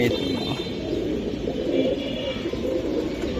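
Giribaz pigeons at a pigeon sale coo in soft, repeated low throaty calls, steady and close, over a busy background murmur.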